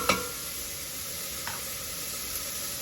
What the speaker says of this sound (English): We're just going to let this cook until it browns.